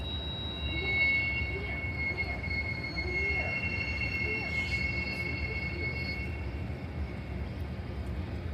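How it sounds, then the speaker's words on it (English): A distant train runs far off during an outdoor travel stop, a steady low rumble and faint wheel squeal sitting under ambient noise and a high electrical whine, with no clear pass-by peak. "There's a train going way out there."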